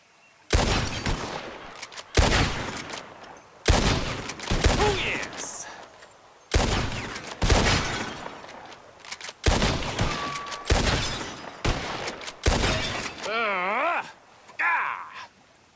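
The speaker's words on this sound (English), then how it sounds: "Whoever shoots the most bottles wins." Revolver shots in a cowboy game during a bottle-shooting contest: a string of loud, close gunshots at irregular intervals, with a few brief ringing and whistling tones between them and no speech.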